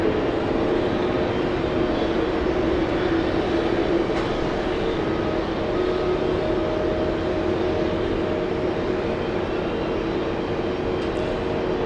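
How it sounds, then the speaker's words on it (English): A pair of Boeing 747 airliners takes off, a steady, broad jet roar heard from some distance that holds constant and fairly loud throughout with no talking. "There goes the pair of 747s."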